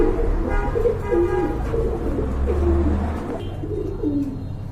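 Domestic pigeons in a seller's coop coo steadily and close by, their low, repeated purring calls overlapping against a constant background rumble.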